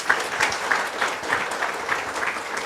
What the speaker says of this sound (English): So I think a big round of applause for Dr. Bahl